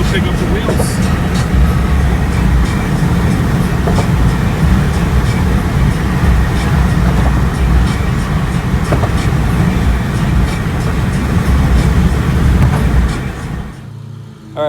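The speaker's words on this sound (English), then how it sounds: "we're going to go over a bridge here" A car, a Shelby, rolls over a bridge at steady speed, with constant road and engine rumble, rhythmic clicks like expansion joints, and a loud, close drone that cuts off near the end.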